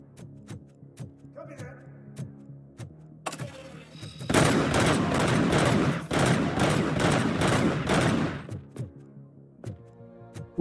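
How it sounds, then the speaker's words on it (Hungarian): Explosive-round pistol fire in Robocop Rogue City comes as scattered sharp shots, then a dense, loud burst of rapid gunfire and blasts lasting several seconds before tapering back to isolated reports. "Szerencsé, hogy robbanó lövedékes a pisztolyom."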